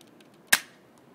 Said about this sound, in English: give it a test shot